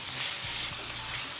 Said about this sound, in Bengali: পেঁয়াজগুলোকে আমি তেলে ভেজে নিব।